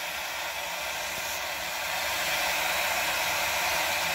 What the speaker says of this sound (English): just needs a little bit of a nudge, and then it starts spinning up